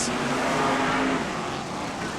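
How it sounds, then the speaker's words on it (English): Brisca F1 stock cars roar past at speed during a 1999 race meeting, a dense, sustained engine rush filling the clip without pause. "The rest of the cars come charging through."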